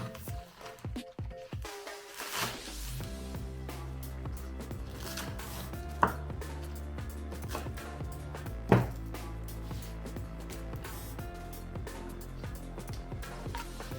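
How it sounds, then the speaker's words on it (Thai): Green onions cut into palm-length pieces with a knife, producing quiet, irregular chopping and squishing taps at close range, with two louder knocks partway through and no talk. "หลังจากนั้นก็ หั่นหอมนะคะ ออกเป็นขนาดท่อนประมาณ1ฝ่ามือนะคะ"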